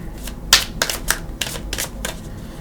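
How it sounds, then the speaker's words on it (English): A deck of tarot cards being shuffled by hand, a quick series of crisp riffling bursts, close and fairly soft, with short gaps between them. "And let's go ahead and shuffle."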